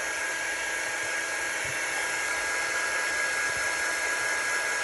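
A heat drying tool blows steadily on wet paint on a DIY craft gnome, a continuous close hiss-like roar with no change in level and no talk.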